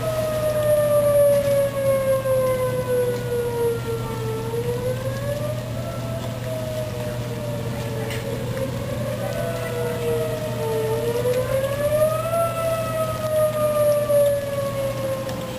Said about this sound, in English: At 9:10, the tornado sirens in Martinsville began to go off.